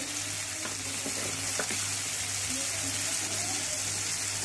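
Red chili powder, coriander powder and cumin powder sizzle steadily in hot oil in a pan while a paneer curry is being made, with a few soft clicks and scrapes breaking through the continuous frying hiss.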